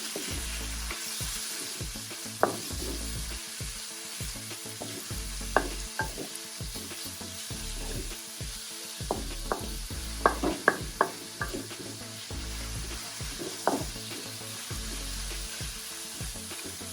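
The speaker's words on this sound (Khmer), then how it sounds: "ខ្ញុំចាក់សាច់គោចូលតែម្ដង" Beef strips stir-frying in a hot pan with garlic, a steady close sizzle broken by repeated clatters and scrapes of a utensil tossing the meat, with no talking.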